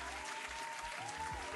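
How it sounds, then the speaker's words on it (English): Brief applause of clapping hands, a steady dense patter that stays even for a moment and sits fairly faint in the mix. "Let's give them a hand clap"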